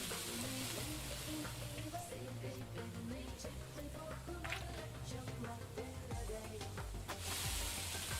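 Onions frying in a pan in the video game Venba make a soft continuous sizzle with scattered crackles, set under a steady melodic game soundtrack; fairly quiet overall.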